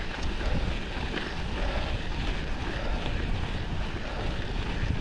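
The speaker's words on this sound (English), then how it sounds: "This is what I had to deal with all morning, uphill into the wind" Wind roars continuously into the microphone during an uphill bike ride, a dense, buffeting rumble that stays loud and unbroken with no voices.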